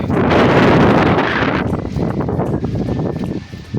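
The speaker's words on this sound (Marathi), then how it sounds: "वारा बघा किती जोरात सुटला आहे" Strong gusty wind just before the first monsoon rain of the season, roaring and buffeting the microphone in a loud, continuous rush that eases slightly after the first couple of seconds.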